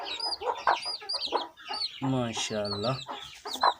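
A hen set on eggs clucks and murmurs close by in repeated bursts, with a voice speaking briefly among the calls.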